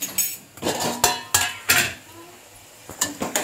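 A metal spoon clinks and scrapes against a pot as dal is stirred and sautéed on a wood-fired stove, in a series of sharp, irregular knocks with brief pauses between them.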